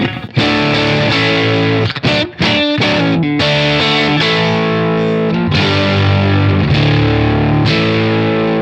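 Electric guitar through heavy distortion, loud and dense with sustained chords and short choppy stops near the start, then ringing held notes without any talking.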